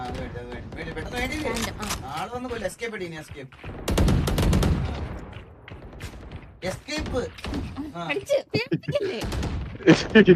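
Bursts of automatic and single gunfire from a Valorant match, loud and close, mixed with people talking throughout.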